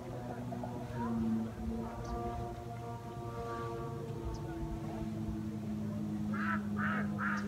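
Geese at Hesperia Lake give three quick honks near the end, fairly distant and moderate, over a steady low outdoor hum on the shore.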